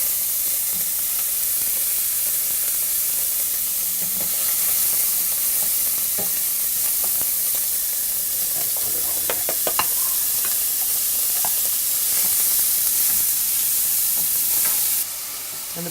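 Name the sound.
pancetta sizzling as it renders in a pan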